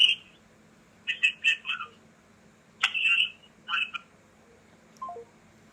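Telephone dialing tones from a call being placed, several short electronic beeps in quick clusters, loud and close over a faint background hum.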